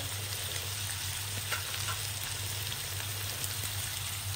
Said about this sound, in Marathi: आता हे सगळं घालून आपल्याला थोडा वेळ हे परतायचं आहे.